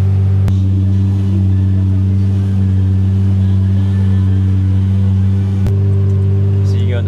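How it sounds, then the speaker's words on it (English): A car engine revving in neutral drones loudly and steadily at a constant pitch, with a couple of sharp clicks, close up and continuous. "just hit the gas and just rev the engine kind of loud"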